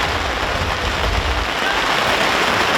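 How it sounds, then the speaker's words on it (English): Heavy rain falls steadily at a rugby league match at an outdoor park, a dense, even hiss with no pauses and no voices. "the rain's come down even heavier now here at Freiburg Park"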